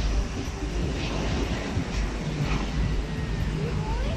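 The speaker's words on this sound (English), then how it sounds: "There's an airplane there landing." A fixed-wing airplane landing at an airport near Mactan, heard as a steady low jet rumble from a distance that persists through the whole stretch, with a faint voice speaking over it.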